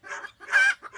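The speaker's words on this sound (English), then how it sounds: "The chickens, whenever they're out here, Lakota can't get to them out here to protect them" Chickens clucking close by outdoors on a farm, short choppy calls with one longer drawn-out squawk in the middle, loud and clear without any talking.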